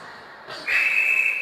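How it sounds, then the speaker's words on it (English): A referee's whistle at an ice hockey game, one steady shrill blast that rises and holds for about a second over faint arena noise. "There's a whistle."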